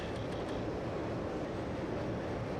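A train in the video game Hybrid Heaven gives a steady, dense rumbling roar with a few faint clicks at the start, even in level throughout and with no voices.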